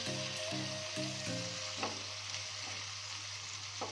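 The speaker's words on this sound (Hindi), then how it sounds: "अब इसमें ये टमाटर ऐड करूँगी।" Tomatoes frying in a pan for reshmi chicken masala give a soft, steady sizzle, with a couple of faint stirs over a low hum and a short tonal beeping at the start.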